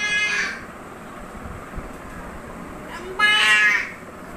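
A young child imitates a cow mooing with two drawn-out, high-pitched vocal calls, one at the start and a louder one near the end, separated by quiet room noise.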